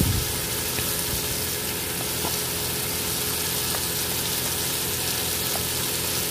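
Tomato masala frying in oil with added spices and being stirred in a pan, a steady close hiss and sizzle that stays even throughout, with faint scraping of the stirring.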